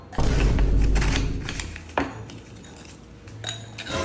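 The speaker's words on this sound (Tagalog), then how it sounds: "Hahaluin natin yung itlog sa cup." Egg being stirred into milk in a cup, with close clinks and scraping of a utensil against the cup, a louder knock near the middle, then quieter stirring.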